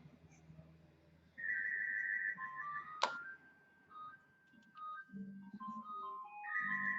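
Telephone ringtone of bright, melodic electronic beeps in a stepping tune, rising and falling over several seconds with a sharp click partway through, moderately quiet in a room with no talking.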